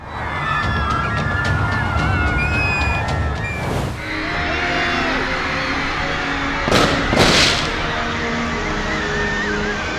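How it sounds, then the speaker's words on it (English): A fireworks factory in Israel explodes in a steady roar of crackling and whistling pyrotechnics, with two loud, sharp blasts bursting through, one near the middle and a heavier double burst later. "A fireworks factory in Israel,"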